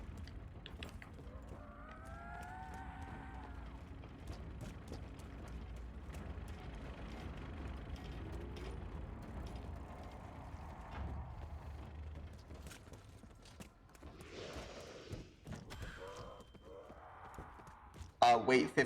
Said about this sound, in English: first you have to run over to this machine, hold square right here to create primo materia